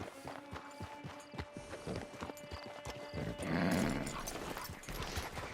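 Steady clip-clop of hooves trotting close by in the video game Red Dead Redemption 2 Online, followed by a horse's snorting whinny; no one speaks.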